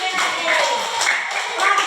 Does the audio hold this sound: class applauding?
yes